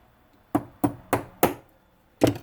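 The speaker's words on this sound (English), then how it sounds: "Slap it on, grab a little hammer," Five sharp metallic hammer taps ring out, four in quick even succession and a final one after a short pause, close and clear, as a small hammer seats a C-clip on a Datsun 240Z/280Z switch.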